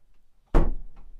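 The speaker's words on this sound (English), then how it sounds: "and then sliding this door over in the bedroom" A sliding bathroom door on a 2022 Adria Adora 623 DP Tiber caravan shuts with a single sharp clunk after a quiet moment, followed by a brief rattling decay and a faint second knock.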